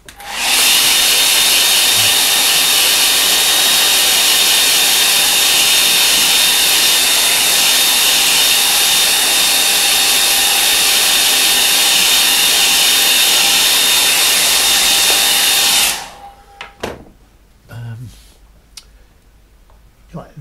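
A hair dryer dries wet paint on a watercolour painting with a steady, loud, broadband whoosh that holds for about sixteen seconds and then switches off. A few light clicks and handling sounds follow it.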